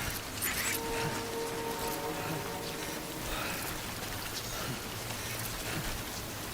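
Steady rain patters in a video game, a dense hiss of drops falling throughout at a moderate level, with a brief faint tone in the background.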